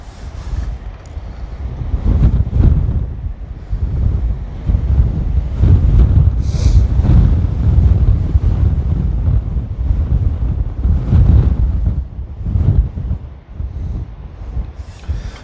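Strong wind buffets the microphone outdoors as a loud, continuous low rumbling roar that swells and fades in gusts, with no voices.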